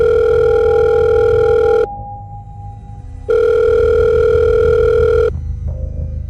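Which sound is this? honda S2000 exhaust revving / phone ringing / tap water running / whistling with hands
phone ringing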